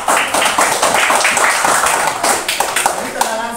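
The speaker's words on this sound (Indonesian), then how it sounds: "tepuk tangan buat teman kita yang sudah membaca" Classroom applause for a classmate during a fifth-grade pencak silat lesson, brisk clapping from a group of children, loud and close, with claps thinning toward the end as voices chatter.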